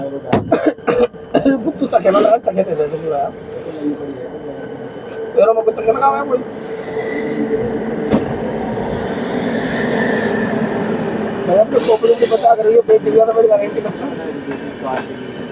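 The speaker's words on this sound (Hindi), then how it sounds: "तो ये आ रही है सामने अपने सबसे VIP ट्रेन इस सेक्शन की, 12230 लखनऊ मेल, न्यू दिल्ली लखनऊ चारबाग" The 12230 Lucknow Mail, a New Delhi to Lucknow Charbagh express, approaches and rumbles past in a long, steady wash of rail noise, with someone talking and coughing over it near the start and end.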